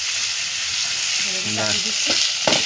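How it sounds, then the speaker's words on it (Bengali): Fish fries in a hot wok over a strongly burning wood fire, giving a steady, loud, hissing sizzle throughout, with brief scraping stir sounds and faint voices near the end. "মাছ ভাজা কমপ্লিট হয়ে গেল বন্ধুরা।"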